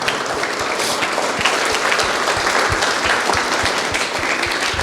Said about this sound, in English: Big round of applause to this great man.